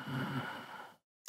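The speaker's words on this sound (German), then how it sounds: "Einatmen, hörbaren Ujjayi." Audible Ujjayi breathing during a Vinyasa yoga flow: one long, breathy exhale near the microphone fades to silence, followed by the brief start of another breath.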